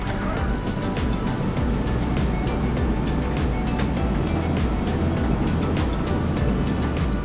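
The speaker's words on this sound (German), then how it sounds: "Und wir haben gesagt, ach, fahren wir mal die ganze Wand raus." The full wall of a luxury motorhome slides out, a continuous mechanical drone with faint, regular clicking running steadily and evenly throughout.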